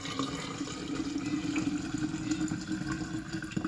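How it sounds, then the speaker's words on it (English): Chicken corn soup broth poured through a small strainer and funnel into a mason jar, making a steady close splashing, gurgling flow that runs continuously with no speech. "So here we have mason jar, funnel, again, small strainer, goes inside the funnel, and then I pour it through here."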